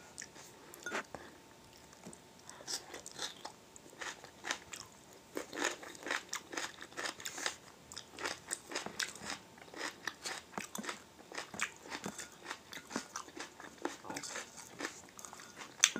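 Onion leeks crunched and chewed in a wild-harvest mukbang, with repeated close crisp bites and steady chewing crackles throughout, no talking.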